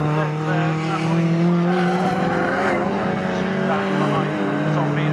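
1960s BMW race cars race at Snetterton with a loud sustained engine howl and shifting tones as the cars pass. Commentators talk throughout.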